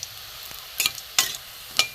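Fish roe fritters frying in hot oil, a soft continuous sizzle broken by a few sharp crackles and spatula taps, faint and close, with no voices.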